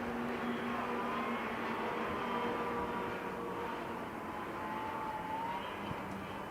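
Racing snowmobiles come out of turn four onto the front straightaway at the World Championship Snowmobile Derby, a distant, fairly quiet engine drone that holds steady with slight pitch shifts and no clear passes.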